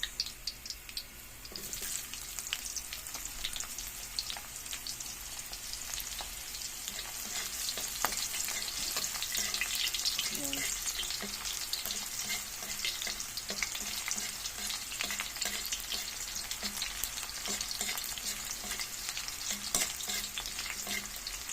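Garlic and onions sautéing in a hot pan for ginisang monggo, a steady close sizzle with frequent scraping and stirring clicks from a utensil, no talking.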